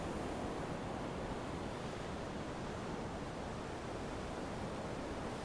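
Big ocean waves breaking against cliffs make a steady, loud roar of surf that fills the whole stretch with continuous broadband wash and no pauses.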